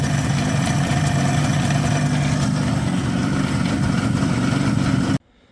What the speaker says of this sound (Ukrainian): Слухайте, як він тепер працює після того, як ми провели невеликі маніпуляції по нашій коробці передач.